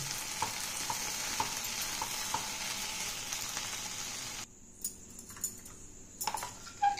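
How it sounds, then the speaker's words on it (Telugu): Okra (bendakaya) curry with salt being stirred in a pan, a steady sizzle with light scraping taps, then a quieter stretch with a few sharper clinks and stirring sounds near the end. "ఇప్పుడు ఇదంతా కలిసేటట్టు కలిపేసుకుందాం."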